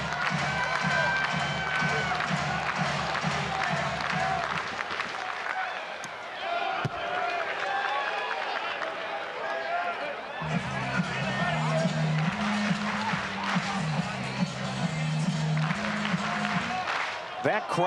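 Crowd at an Oregon vs Oregon State baseball game cheering and applauding in a big sustained roar, with rhythmic stomping or clapping beats throughout, the noise dipping in the middle before surging again.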